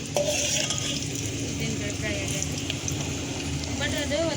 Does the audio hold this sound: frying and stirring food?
yes